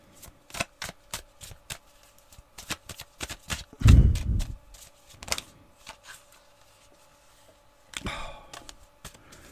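Crisp, repeated riffling of tarot cards being shuffled by hand in quick bursts, with a heavier thump and a soft rustle midway, close up.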